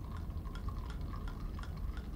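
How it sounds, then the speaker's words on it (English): Champagne poured into a glass makes a continuous fizzing, bubbling pour with small drips and crackles, close and fairly soft, with no talking. "you're going to pour the champagne"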